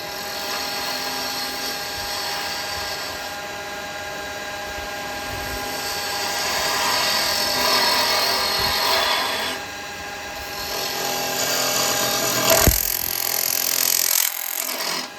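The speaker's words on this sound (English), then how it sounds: "I'm going to drill it." A steady whirring lathe hum with a harsh grinding rasp as a bit bores into a wooden pot, continuous and close, ending in a brief sharp knock.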